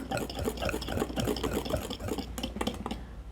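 Cookie dough being stirred by hand in a bowl, a steady run of soft scraping and thick mixing strokes close by, with faint clinks of utensil against the bowl and no talking.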